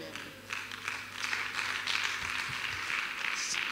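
An audience at an evening talk by Dr. Donna Small breaks into applause, a steady wash of clapping that swells and holds across the moment, with a low voice faintly underneath.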